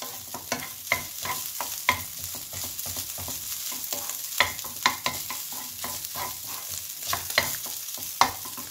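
Japanese-style garlic fried rice with pork sausage stir-fries in butter over high heat, producing a constant close sizzle with rapid, rhythmic scraping and tapping of a spatula against the pan throughout, no speech.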